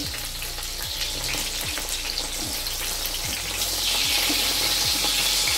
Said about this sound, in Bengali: লাল লাল করে ফ্রাই করে নিয়েছি নামিয়ে নেব